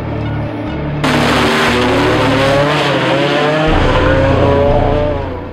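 Drag racing car launching down the Atco strip at the Pan Americans bracket race, a loud roaring engine that surges suddenly into a harsh, wide blast and holds at full power, close and continuous, with no talking.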